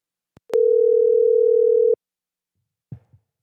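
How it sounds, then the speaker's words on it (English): A phone dial tone sounds while calling someone back, a single steady pure beep lasting about a second and a half after a faint click, followed by a couple of soft clicks, no talking. "Let me see if I can dial him back"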